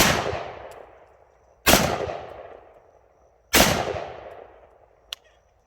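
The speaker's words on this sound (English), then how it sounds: "And let's shoot down toward the bottom." Three loud rifle shots from an AR-15 at an outdoor shooting range, fired downward, each a sharp crack followed by a long decaying echo. A faint click comes near the end.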